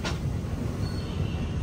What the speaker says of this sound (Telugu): మన ట్రైన్ కూడా స్టేషన్ లోపలికి వెళ్తుంది